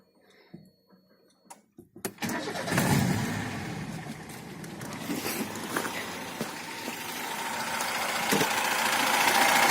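A VAZ 2105 Zhiguli engine with fuel injection cranks and catches about two seconds in, then runs steadily close by, its loud idle holding a rough, uneven note that swells slightly toward the end.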